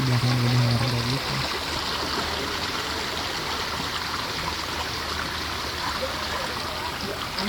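Floodwater from a flash flood near Puncak Gunung Mas runs steadily through a drainage channel behind houses, a continuous broad rushing wash that stays even throughout, with a brief low hum at the start.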